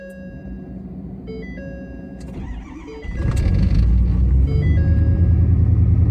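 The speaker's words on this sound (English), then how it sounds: "That's a really high idle for this truck anyway, for a first start." Truck engine cranking and firing up in cold weather, then settling into a loud, steady rumbling high idle after about three seconds, with electronic chimes and beeps over it and no talking.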